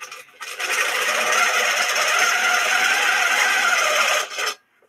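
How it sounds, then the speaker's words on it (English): A longarm quilting machine stitches steadily along a ruler for about four seconds, a continuous whirring buzz that starts and stops abruptly, close and alone with no talk. "I can only quilt as far as my machine will allow."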